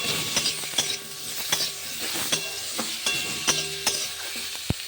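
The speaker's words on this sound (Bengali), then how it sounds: "এই দেখো এবার এটাকে আমি নাড়াচাড়া করে নিলাম।" Fish curry with tomato and pumpkin sizzles in a kadai while a spatula stirs it, giving repeated sharp scraping knocks at an uneven rhythm over a steady frying hiss.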